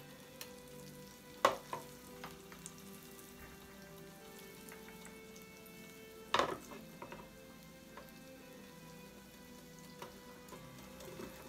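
Falafels fry in oil in a pan with a quiet, steady sizzle. A few sharp utensil clicks and taps stand out against the soft crackle.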